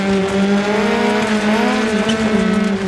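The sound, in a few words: Peugeot 205 T16 rally car driving, Dirt Rally 2.0 video game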